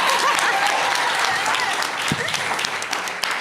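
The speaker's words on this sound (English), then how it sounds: "can you please give them a round of applause?" Steady crowd applause at a conference session on climate justice and gender equality, many hands clapping together in a dense, even wash, fairly loud and close, with no speech over it.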